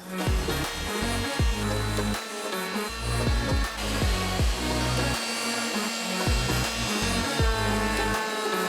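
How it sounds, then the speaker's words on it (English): Router rounding over the edges of a wooden piece, a loud, steady motor whine broken by repeated rhythmic cutting passes along the wood, close and alone with no talk. "we can start rounding these over and get the hinges in"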